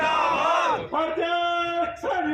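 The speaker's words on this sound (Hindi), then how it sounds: "तो आप देख सकते हो नारेबाजी भी वो सरकार के खिलाफ यहाँ पर कर रहे हैं।" A farmers' union crowd at a rally chants slogans against the government, loud massed voices rising and falling in rhythmic shouted phrases at close range.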